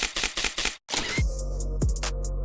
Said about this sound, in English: At this point, you can throw in some camera sound effects and you'll be good to go.